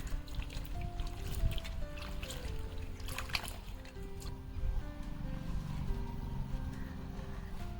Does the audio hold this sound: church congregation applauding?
no